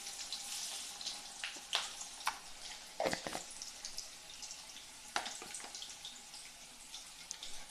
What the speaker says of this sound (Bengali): আলুগুলো আমি লাল লাল করে ভেজে নিচ্ছি।